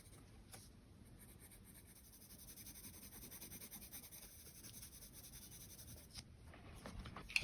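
A sharp colored pencil shades on paper in close, quiet strokes, a soft rhythmic scratching that grows slightly louder and faster toward the end.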